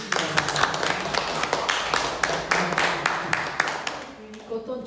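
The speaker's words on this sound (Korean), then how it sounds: "여러분 박수로 한번 응원해 주시기" An audience applauds an inventor at a presentation event in Jeju, Korea, with dense, steady clapping that carries through the whole stretch and thins slightly near the end.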